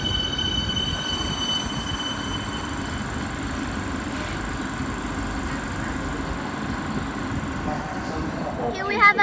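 Siemens suburban train pulling out of Caulfield station in Melbourne toward Pakenham, a steady rolling rumble with high squealing wheel tones throughout, close by and moderately loud, with a louder swell near the end.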